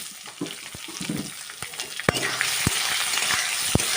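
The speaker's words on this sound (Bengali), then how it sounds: "বাদামগুলো কিন্তু ভালো করে একটু ভেজে নিচ্ছি" Nuts frying in oil in a pan for Bengali-style poha pulao, a steady loud sizzle with scattered pops and crackles and occasional clicks of stirring, close up.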